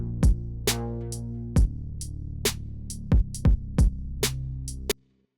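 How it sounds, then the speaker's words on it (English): Drum and bass loop played without hi-hats: punchy kicks and snares hitting in a syncopated pattern over a sustained low tone, clean and alone, cutting off abruptly at the end. "I'm going to use the same drum pattern but without the hi-hats."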